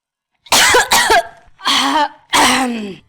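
Several harsh coughs close up, a quick pair followed by two more separate bursts, with brief silences between.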